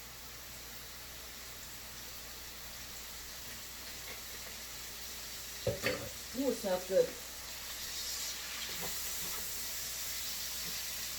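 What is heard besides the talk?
vegetables sizzling while frying in olive oil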